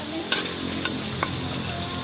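Garlic sizzles in a hot pan for crab ginataan, a constant bright frying hiss with a few sharp crackles and pops over it.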